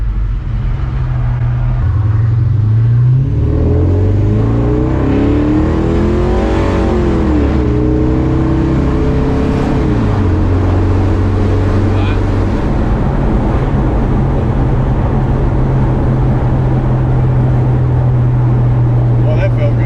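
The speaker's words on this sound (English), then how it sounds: "It sounds so much better going down the road." A loud LS V8 car engine revving and pulling hard down the road, the tone sweeping up through the gears under a constant roar of road and wind noise, with voices talking over it.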